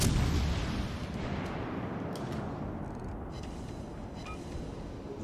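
A warship's main guns fire in World of Warships, a deep booming salvo rolling out loud at the start and leaving a long rumbling tail that fades slowly.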